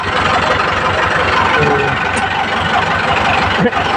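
A tractor, driven by dad for the first time in 15 years, runs loud and close with a rough, steady rumbling engine note that swells slightly, a brief dip near the end, no clear speech.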